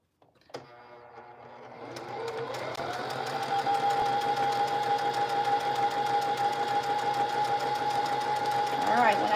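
A sewing machine stitches a faux feed sack, starting with a sharp clunk and then settling into a loud, steady, rapid whir that builds slightly toward the end, with a voice talking over it.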